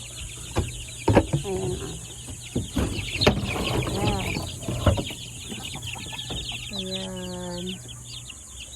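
Newly hatched Rhode Island Red and turkey chicks peep and chirp in a pen, with a clucking hen nearby and a drawn-out call near the end, as a person speaks briefly in the background.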